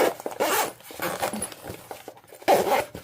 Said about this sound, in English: So you're going to open up the zipper here.